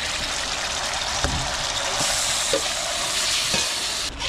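Garlic, onion and tomato sauce fry in a pan for Filipino igado: a strong, continuous sizzle with stirring and a few soft utensil knocks, and no talking.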